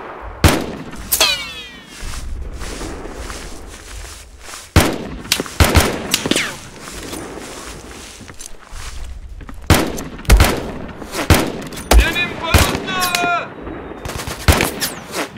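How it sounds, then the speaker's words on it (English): Rapid bursts of gunfire from the video game Mud and Blood, loud sharp shots arriving in repeated clusters with brief pauses between volleys, close and dominant, with no speech over them. "I'm opening fire."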